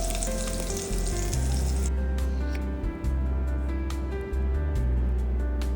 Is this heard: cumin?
yes